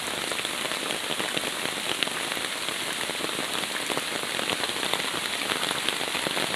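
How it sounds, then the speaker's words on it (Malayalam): Heavy rain pours down steadily, a dense, even hiss of drops striking surfaces nearby with no break or voices. "മഴ ഊക്ക് കൂടി"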